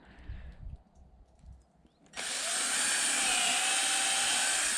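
A power screwdriver drives a screw into an outhouse being built for a construction site, its steady high whine starting abruptly after quiet handling noises and running loud and continuous to the end.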